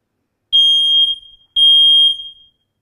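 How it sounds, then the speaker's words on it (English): Two loud, piercing smoke alarm beeps, each lasting about half a second, separated by a short silence, close and alone. "make sure that you A, know where the smoke alarms are, and B, how they work"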